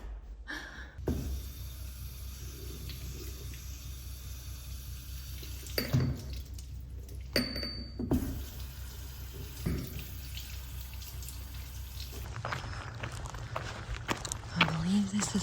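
A tap running in a visitor center restroom: a steady hiss of flowing water with a few clunks and footsteps, breaking off and resuming toward the end, and someone talking at moments.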